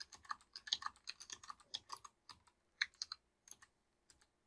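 Quick, irregular keystrokes on a computer keyboard during a C programming session, clicking alone in bursts at close range with short pauses between runs.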